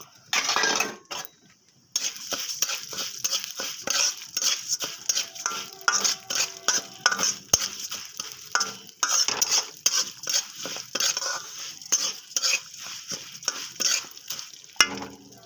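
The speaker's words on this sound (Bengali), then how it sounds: "হালকা মুগ ডালগুলো ভেজে নেব।" Mung dal frying in oil in a hot kadai while a spatula stirs it: rapid, rhythmic scraping and metallic clinks over a soft sizzle, close and fairly loud, with a brief pause early on.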